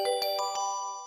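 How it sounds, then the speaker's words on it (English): Short notification chime from a Stable Diffusion setup finishing, a few bright tinkling ding tones with sustained ringing harmonics, clean and alone, fading out over about a second. "we got our little sound notification to let us know that we are ready to roll"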